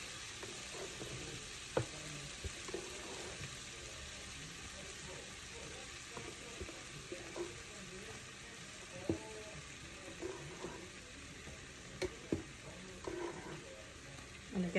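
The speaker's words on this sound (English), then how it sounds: "Add your garlic. You're gonna let this cook for a few minutes." Garlic and flour cook in a pan with a faint, steady sizzle and light frying crackle, broken by occasional soft clicks and stirring taps, quiet and close with no talking.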